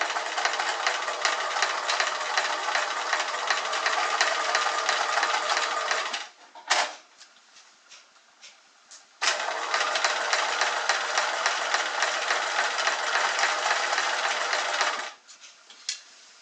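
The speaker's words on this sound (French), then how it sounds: "je resélectionne mon point de zigzag classique, je ne change ni la longueur ni la largeur, et je continue" A sewing machine runs a classic zigzag stitch along a hem on stretchy lycra fabric, with a steady rapid whir for about six seconds, a short pause with a few clicks, then another long run.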